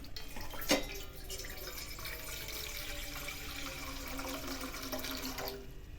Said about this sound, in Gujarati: તેમાં પાણી એડ કરીશું